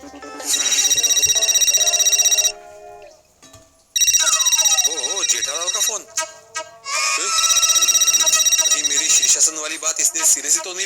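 A telephone ringing loudly and close on an outgoing call, bright electronic ringtone bursts separated by a short silence, then a warbling tone pattern before ringing resumes.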